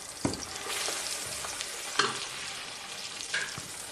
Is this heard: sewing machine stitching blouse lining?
no